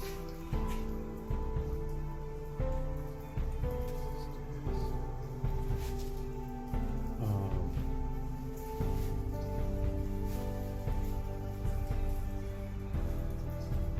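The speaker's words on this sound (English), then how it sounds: "I'm painting in the rain, so you're getting rain on there." Steady rain patters outdoors at Eaton Canyon during a plein air oil painting session, a soft continuous hiss that stays faint and even throughout, with no talking.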